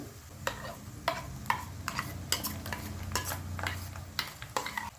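Masala paste frying with reddened onions in a pan, a low steady sizzle broken by repeated scraping stirs and spoon clinks, close and fairly quiet, no talk.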